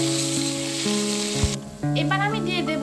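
Grated mango frying in a pan, stirred with a constant close sizzle, while steady tonal hums run beneath and a clatter joins briefly toward the end.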